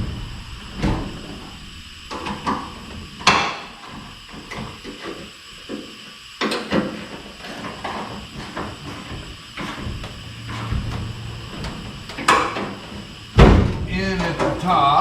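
A crew cab truck door is lifted into place and shut, producing several sharp metallic bangs and clunks spread across the stretch, with people talking in between.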